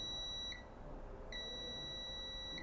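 A multimeter in continuity mode gives two steady high-pitched electronic beeps while probing a phone circuit board for a short, one brief and one longer, close and clear.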